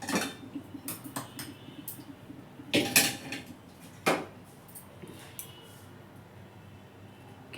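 A plate flipped over on a cooking pan while making a sweet recipe, heard as a couple of sharp metallic clanks and scrapes around the middle, with lighter clinks of utensils before and after.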